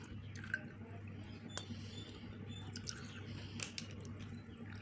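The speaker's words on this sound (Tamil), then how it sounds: "இப்போ வந்து நம்ம ஜவ்வரிசி தண்ணி வந்து வடிச்சுக்கலாம்." Water drains off soaked sago, giving soft, scattered drips and small wet squishes, quiet and close, over a low background hum.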